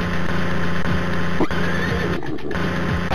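A horse whinnies in a Thomas & Friends circus video game as animals are loaded onto a train, with a steady electronic game tone and music running underneath the whole time.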